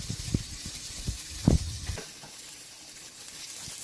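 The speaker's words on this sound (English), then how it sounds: "Now I'm gonna add my onion, and then let this saute for a little bit," Chopped onion sautéing in a pan for a spinach and cheese quiche, a soft, close sizzle with a few brief stirring clatters early on, settling into a quieter steady hiss.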